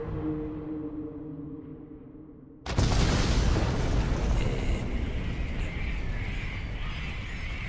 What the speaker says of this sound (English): I always think about fear when that explosion stuff happens.